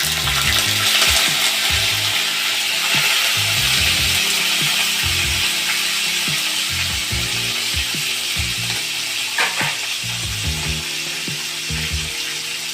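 Onion paste sizzles and fries in a hot pan while making chickpea chole, with a continuous crackling hiss and repeated scraping stir strokes of a spatula, close and fairly loud, no talking.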